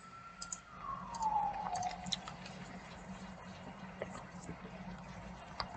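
A faint ambulance siren wails briefly in the distance near the start, sliding down in pitch before fading into low background hum and scattered mouse clicks from a computer game session.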